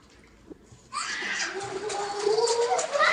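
Water pumped by a motor from a tank into a new home swimming pool starts after a quiet moment and then gushes in a steady hiss, with children's voices nearby.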